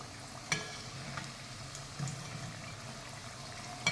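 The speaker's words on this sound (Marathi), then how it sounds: "कढईत तळताना आवाज येतो" A steady oily sizzle and crackle of wheat-flour snacks deep frying in hot oil in a kadhai, with a few sharper pops and clinks of a utensil.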